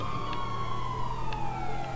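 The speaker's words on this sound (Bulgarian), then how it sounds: "Само сирени." Police sirens in the GTA 5 video game wail steadily through the full stretch, a sliding siren tone over a low engine drone with faint intermittent clicks, moderately loud and without talk.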